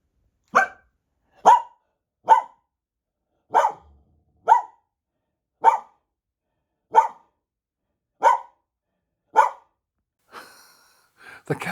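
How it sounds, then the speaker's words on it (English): A lurcher barks about nine times in an evenly spaced series, each bark short and clear against silence, followed by faint rustling at the end. "And I've got a lurcher."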